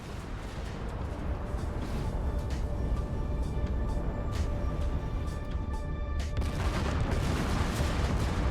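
Spaceship explosion in the space combat game Everspace 2, a dense continuous roar of blasts and crackling booms that stays loud for the whole stretch.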